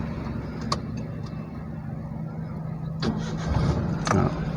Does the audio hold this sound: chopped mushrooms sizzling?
no